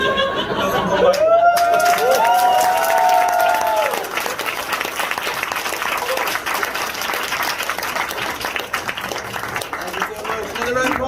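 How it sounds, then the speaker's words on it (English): Applause and cheering from a live crowd at a comedy show, loud and sustained throughout, with chatter and a voice briefly rising over the clapping early on. "Another round of applause for you."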